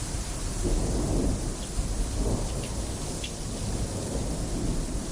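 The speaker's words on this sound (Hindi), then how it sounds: "तूफान चलता रहा" Heavy rain pours steadily in a storm with low rumbling thunder rolling underneath, a dense, continuous wash of sound close around with no voices.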